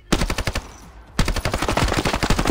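Rapid automatic gunfire in a shooting video game, two loud bursts of closely spaced shots separated by a short pause, close and dominant with no talk.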